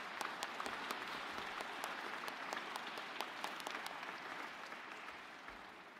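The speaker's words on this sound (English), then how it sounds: "can I have a round of applause for amazing faculty and staff here at Providence Day School?" An audience at a middle school closing ceremony gives a round of applause for the faculty and staff, with sustained, fairly distant clapping that holds steady for about six seconds and eases slightly at the end.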